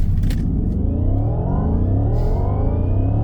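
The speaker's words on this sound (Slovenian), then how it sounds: "Porsche Cayenne Turbo Electric." Porsche Cayenne Turbo Electric, an electric SUV, accelerating hard, with a steady loud low rumble of tyre and road noise under a rising electric motor whine that climbs in pitch throughout.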